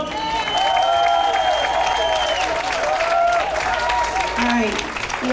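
An audience applauds Councilor Diane LeBlanc with steady, sustained clapping from a crowd, held at an even level throughout and mixed with faint voices.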